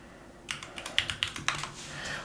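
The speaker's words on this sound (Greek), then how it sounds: "βάζεις και το πληκτρολόγιο σου εδώ και γράφεις." Someone types on a computer keyboard resting on a large mousepad, a quick run of crisp key clicks of uneven rhythm that sound close and moderately loud, with no talking.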